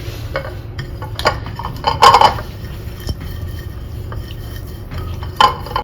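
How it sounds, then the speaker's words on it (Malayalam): Grilled chicken marinade with whiskey being mixed in a bowl, heard as close, uneven clinks and scrapes of a utensil against the dish, with a couple of sharper knocks. "ഓക്കെ, ഇനി നന്നായിട്ടൊക്കെ മിക്സ് ചെയ്യാം."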